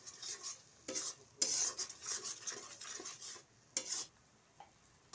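Spices and coconut paste stirred and fried in a pan for rohu fish curry, a spoon scraping and clinking against the metal over a soft sizzle, in repeated close strokes.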